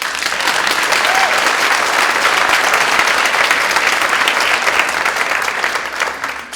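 An audience claps loudly and steadily throughout, a thick unbroken wash of many hands that holds its level for several seconds before tapering slightly at the end.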